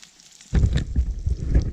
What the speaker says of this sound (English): as you can see, it is sizzling